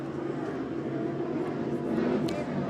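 A 47-foot MTI offshore racing powerboat passes during the Cocoa Beach Space Coast Grand Prix, its engines a steady, distant broadband drone that holds throughout with a faint rise near the end.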